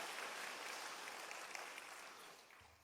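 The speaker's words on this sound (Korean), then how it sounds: "다시 한번 하나님께 영광의 박수 올려드립니다." A church congregation claps together in a steady, even round of applause for about three seconds. The sound is distant and quiet, with a faint voice near the end.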